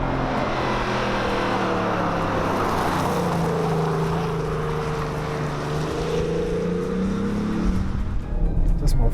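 BMW X7 driven at speed in sport mode on a road in Greece, a steady engine drone with rising and falling tonal whine under wind and road roar, continuous throughout.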